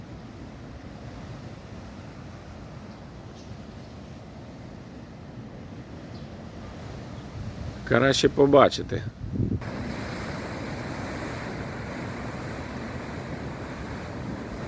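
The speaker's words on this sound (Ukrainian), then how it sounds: "Зараз море трішечки штормить, можемо його послухати." Stormy sea waves surge and wash in a steady roar under gusting wind, and a voice speaks briefly partway through.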